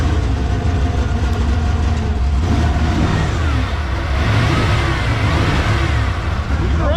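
An engine running in a restored 1992 Ford F150 pickup truck, a loud continuous close rumble with a couple of rising revs, no voices over it.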